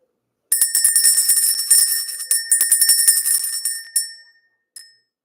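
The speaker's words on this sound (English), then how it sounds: "Let's go ahead and ring this bell." A bright handheld bell rings close and loud in a rapid, continuous jingling burst for about three and a half seconds, fades out, then gives one short final ring, with no voices.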